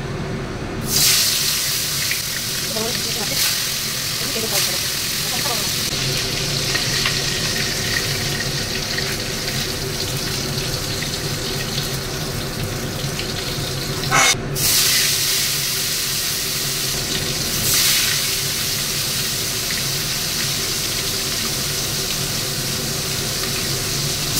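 Koi fish pieces fried one by one in hot oil in a kitchen pan, crackling and sizzling steadily with bursts of spattering.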